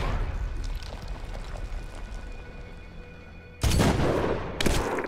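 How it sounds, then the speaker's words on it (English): Mortar rounds landing in a Medal of Honor sniper mission, with two loud, heavy blasts close together near the end after a stretch of low battlefield rumble. "Mortar inbound."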